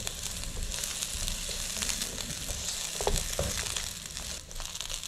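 Garlic and then onion are sautéed in a pan, giving a steady, close sizzle with crackles and occasional stirring scrapes.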